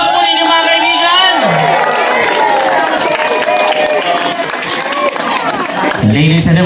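Birthday party crowd cheering and clapping, a loud, busy wash of voices, whoops and applause with shouting children, while amplified talk runs over the top.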